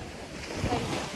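Ocean waves on a rough day at a Konkan beach roar as a steady, full wash of surf mixed with wind buffeting the microphone, with no voices.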